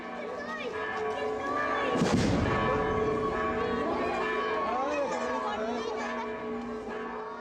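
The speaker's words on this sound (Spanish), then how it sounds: "La salida se da en medio de un intenso repique de campanas, estruendo de cohetes" Church bells peal in a busy outdoor crowd at the San Marcos Mexicaltzingo patronal festival in Iztapalapa, Mexico City, with a sharp booming blast from an exploding rocket partway through and chatter continuing throughout.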